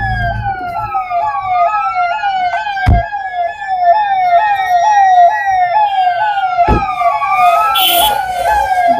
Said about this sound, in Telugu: విపరీతమైన ట్రాఫిక్ సార్.